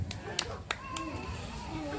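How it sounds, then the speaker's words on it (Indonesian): Scattered hand claps from an audience at an Islamic religious gathering, a few sharp claps near the start, then a thin patter as children's voices and chatter carry on around them. "Tepuk tangan dulu"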